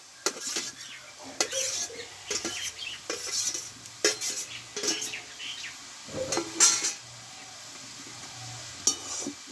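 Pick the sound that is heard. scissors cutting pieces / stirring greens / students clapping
stirring greens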